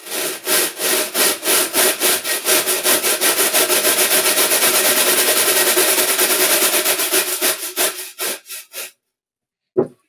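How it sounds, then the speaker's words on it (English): Silent-film era trap drum effect working like a cheese grater with a big brush, giving loud rhythmic rasping scrapes, about twenty regular strokes that speed up, then slow and fade, with one last isolated scrape. "This is kind of like a cheese grater with a big brush on it."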